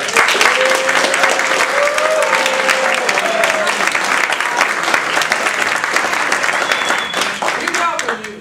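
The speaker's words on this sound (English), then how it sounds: "please give all of our contestants a round of applause" Loud, sustained round of applause from the audience at a Toastmasters District 30 table topics contest, a thick wash of clapping with crowd noise and faint voices underneath.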